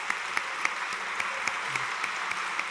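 An audience at a sports awards gala in Ponta Delgada applauding the jury, a dense, loud round of clapping with a steady rhythmic pulse throughout.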